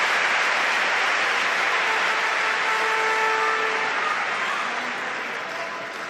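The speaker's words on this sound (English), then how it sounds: "The crowd raising the roof here in Düsseldorf." Crowd at a table tennis match in Düsseldorf, Germany, a steady roar of cheering and applause filling the arena, sustained and loud before easing slightly at the end.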